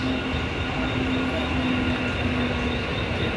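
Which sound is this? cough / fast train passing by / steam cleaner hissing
fast train passing by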